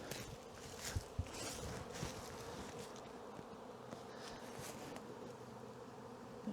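A swarm of honeybees that has just left a hive hums in a dense, continuous drone, with individual bees buzzing past nearby and occasional soft knocks.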